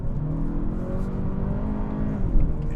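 A car with a 2.5-liter four-cylinder engine accelerates hard, front tires overpowered and understeering, its engine droning loudly and rising in pitch across a short stretch.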